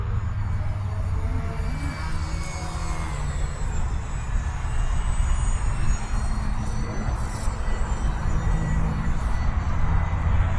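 A UMX Waco RC microplane running at full throttle on a 3S battery, its electric motor a steady, loud whine with broadband wind-like noise held for about ten seconds, with no talking.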